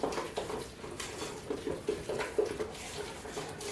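Gluten-free Christmas pudding batter with flour stirred into melted butter, giving soft, irregular scraping and tapping of a utensil against a bowl, fairly quiet and close, with no talking.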